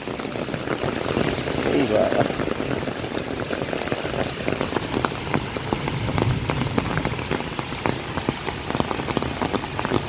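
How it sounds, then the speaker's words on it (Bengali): Heavy rain pours down steadily, dense patter on hard surfaces with gusty whooshes mixed in, loud and close throughout. "বৃষ্টির সঙ্গে হাওয়াও চলছে"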